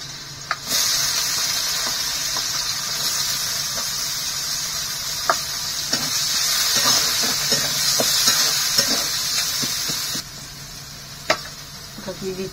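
Chopped onion frying with garlic and spices for ghugni sends up a loud, steady sizzle and hiss close by, broken by scattered clicks and scrapes of stirring. The sizzle swells midway and drops off near the end.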